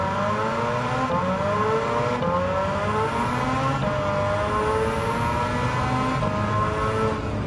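Rotary-swapped Mazda MX-5 in Gran Turismo 7 revving hard, its engine note climbing through the gears with rising harmonic sweeps, loud and continuous throughout with no talk.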